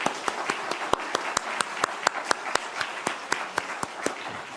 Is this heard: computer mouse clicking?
no